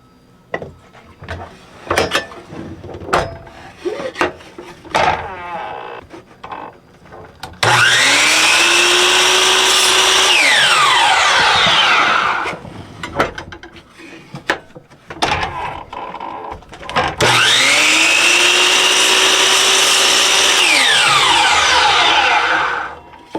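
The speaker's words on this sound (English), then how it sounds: "Now I'm going to cut this part on a 45 and this part here on a 45." Power saw cutting scrap wood boards at a 45-degree angle: two loud, sustained cuts of several seconds each, separated by clatter of handling the boards, each with a rising whine as the blade spins up and winds down.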